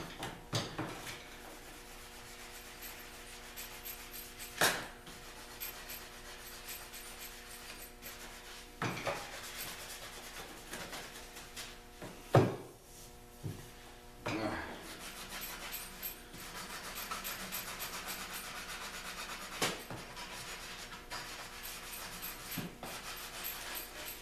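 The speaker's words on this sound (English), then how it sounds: "once you're done sanding all these parts" Hand sanding of Jeep Wrangler roll cage parts gives a long, steady abrasive rubbing with a constant low hum behind it and a few sharp clanks and knocks of metal parts scattered through.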